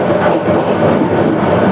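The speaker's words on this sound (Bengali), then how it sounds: "তবে ট্রেনটা কিন্তু স্টেশন থেকে বের হয়ে একটু স্লো করলো, একদম কচ্ছপের গতি" The Subarna Express on its Chattogram to Dhaka run slows after leaving a station, a loud, steady rolling rumble of carriages heard close up.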